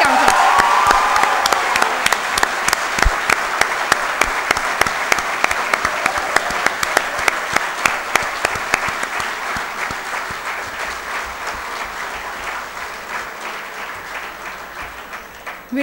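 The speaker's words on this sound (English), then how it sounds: "please put your hands together for a huge round of applause for our newly qualified chartered accountants" Sustained, loud applause from a ceremony audience in Karachi honouring newly qualified chartered accountants at a certificate award event, dense clapping continuing throughout and slowly thinning toward the end, with a few sharper claps standing out.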